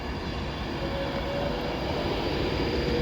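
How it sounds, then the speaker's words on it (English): An Avanti West Coast Class 390 Pendolino express departs Oxenholme on the West Coast Main Line bound for Glasgow Central, a steady loud rolling rumble with faint wheel squeal and no voices. "Departing now is the 1411 Avanti West Coast service to Glasgow Central, and this is doing the express."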